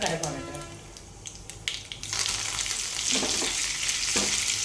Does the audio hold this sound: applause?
no